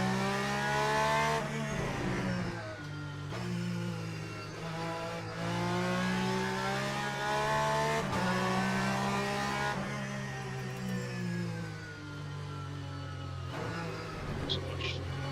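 Subaru GTE race car from Le Mans Ultimate at Circuit of the Americas, its engine droning and shifting through gears with rising and falling revs, steady and close throughout the run.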